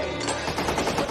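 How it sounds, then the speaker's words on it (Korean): A rapid burst of gunfire, several close shots in quick succession like automatic fire, loud and harsh, as armed terrorists surround a school at lunchtime. "어디선가 총소리가 들려오죠"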